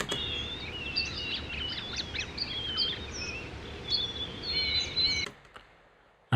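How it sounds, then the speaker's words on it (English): Bird song sample used in an ambient music track: bright chirps and trills over a soft hiss bed, continuing for about five seconds before cutting to near silence. "And the last one is this bird song."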